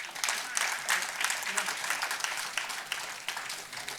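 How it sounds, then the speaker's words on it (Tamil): An audience at an award ceremony for a Mahakavi Bharathiyar birthday celebration gives dense, continuous applause that is moderately distant and steady throughout. "நூறுக்கும் மேல் மக்கள் குவிந்திருந்தாலும் 30 பேர் தான் கைதட்டுகிறார்கள்."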